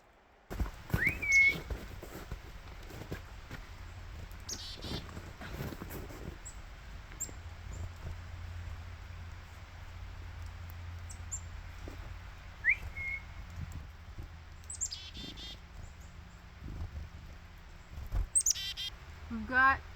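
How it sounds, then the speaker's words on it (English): Wild chickadees and a nuthatch call outdoors on a misty, quiet morning: a few scattered short chirps and whistled notes, some close and some distant, over low background rumble with brief handling noises. "We've got the chickadees here, and we've got a nuthatch too."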